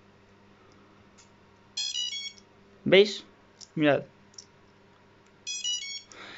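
Electronic speed controllers on a TYRO 109 drone give short bursts of rapid stepped beeps when the LiPo battery is plugged in, two clear sequences a few seconds apart, with a person speaking briefly between them.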